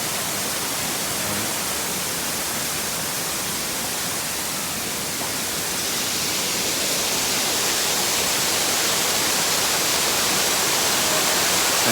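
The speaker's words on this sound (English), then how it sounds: "Take people against that waterfall there." A park waterfall's steady, broad rushing water roars without a break, a dense continuous hiss that swells slightly louder toward the end.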